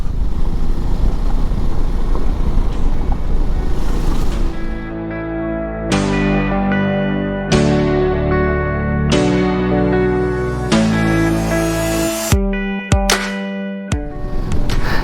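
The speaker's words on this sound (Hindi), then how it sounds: "ये छोटे छोटे से जो ग्रेवल से, इसके वजह से बाइक इधर उधर फिसल रहा है" A motorcycle rides a gravel mountain road, its engine droning loudly under heavy wind buffeting, with gear shifts making the pitch climb and drop repeatedly, ending in a few abrupt cuts.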